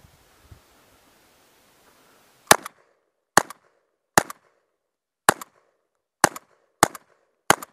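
A Mossberg 930 SPX semi-automatic tactical shotgun fires seven sharp, loud blasts at a range, spaced roughly a second apart after a quiet opening, each with a brief echoing tail.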